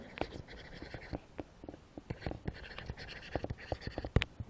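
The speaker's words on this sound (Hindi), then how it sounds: "अब मैं पहले डेफिनेशन लिखता हूँ" A pen scratches across paper while a math definition is written out, with soft, quick strokes and taps in an irregular rhythm, close and quiet.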